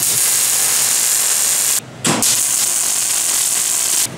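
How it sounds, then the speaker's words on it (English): Welding along the edges of a steel fitting, a loud, steady, close hiss with a brief break in the arc before it resumes and carries on evenly, no voices. "So we welded the top edges and then the inside edges"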